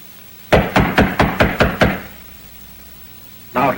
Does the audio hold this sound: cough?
no